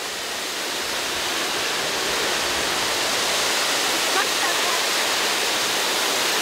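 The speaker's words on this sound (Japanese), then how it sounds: "あの上がガチガチの滝があるわ。" Strong, steady roar of the Sugao waterfall in Fukuoka, a dense continuous rush of falling water close by, with no break across the clip.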